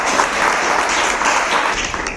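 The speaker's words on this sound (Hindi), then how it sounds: "एक बार हमारे एक्सपर्ट के लिए जोरदार तालियां हो जाए।" A quiz-show audience breaks into loud, dense applause for an expert guest, continuous clapping from many hands filling the room for a couple of seconds.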